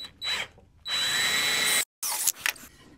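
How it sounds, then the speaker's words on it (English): A power drill bores holes in wood set against a jig, a high whining spin-up and a sustained burst of grinding, then a pause and a few short rattling pulses, close by. "And then we'll take our jig, set it with our drill leaning against it,"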